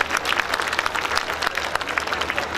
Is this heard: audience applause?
yes